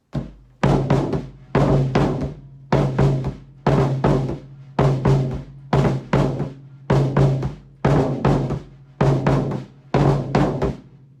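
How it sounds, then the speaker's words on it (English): A deep surdo drum beats a steady repeating rhythm, booming strokes alternating with short muted hits, loud and close with nothing else playing. "this surdo would play something a little more technical like this."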